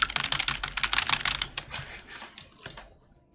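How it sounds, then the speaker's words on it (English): Clicky computer keyboard typed in rapid, close bursts of sharp keystrokes, slowing into scattered taps near the end, with no voices. "Otherwise you can hear my keyboard just..."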